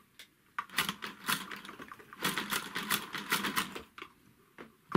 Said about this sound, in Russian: Так, ну пробуем шить.